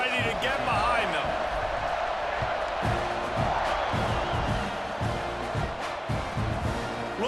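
Steady stadium crowd roar from the EA Sports College Football 26 video game, loud and continuous under a play-by-play commentator voice, with rhythmic low thumps in the background.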